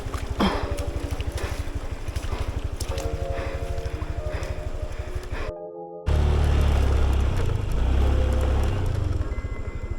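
A motorcycle is pushed across a river crossing on a mountain trail at Mt. Lawad, Bulacan. Its engine putters in a steady rhythmic pulse, cuts out briefly, then gives way to a louder rush of wind and water.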